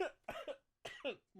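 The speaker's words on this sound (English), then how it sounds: "Sorry, I coughed directly into the mic." A person coughing directly into a microphone, several close, loud, harsh bursts separated by short silences, with no talk.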